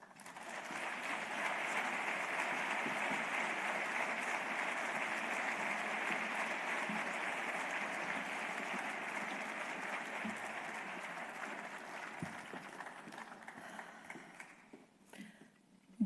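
Sustained applause from a large audience at an awards ceremony fills the hall, loud and steady for about fourteen seconds before gradually thinning out toward the end.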